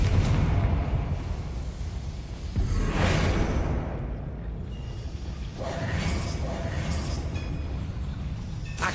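A Confringo blasting spell fired in Hogwarts Legacy bursts into a loud whooshing blast with a rumbling boom, followed by a second swelling burst against a dense, noisy game background.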